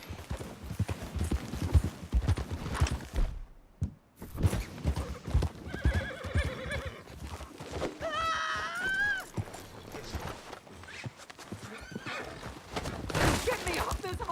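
A horse's hooves clip-clop at a gallop while it gives loud, sharp whinnies in Red Dead Redemption II, mixed with shouting voices and game action noise.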